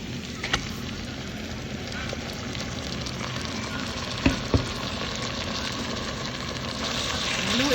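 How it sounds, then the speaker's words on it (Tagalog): Marinated beef for beef pares hits a hot pan, a loud, dense sizzle and crackle that holds steady with a couple of sharp knocks against the pan partway through. "So ngayon naman po ay ilalagay na natin yung ating minarinate na baka kanina"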